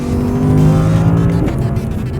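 A 2016 Audi R8 V10 Plus, a non-turbocharged supercar that revs to 9,000 RPM, roars loud and close in a sustained howling rev that eases off briefly near the end.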